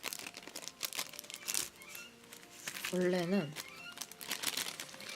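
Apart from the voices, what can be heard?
opening the package of a Japan SIM card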